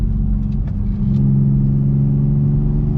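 A modified Infiniti G35 car drives with a steady, loud, low engine rumble and exhaust drone that holds for about three seconds, with no talking.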